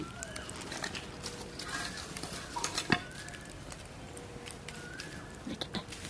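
Birds chirp in short, scattered calls in the background outdoors, behind the closer clatter and stirring of cooking over an open wood fire with a clay pot.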